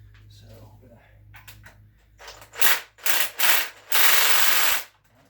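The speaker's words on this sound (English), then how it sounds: "Ratchet extension." Ratchet with an extension working an engine bolt on a GM 2.4 Twin Cam during a teardown: quiet handling at first, then several loud, close bursts of rapid clicking, the last one longest.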